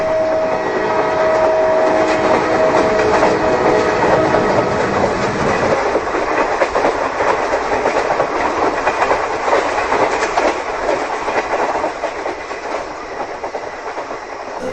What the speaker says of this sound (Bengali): দূর থেকে ট্রেনের শব্দ ভেসে আসছে।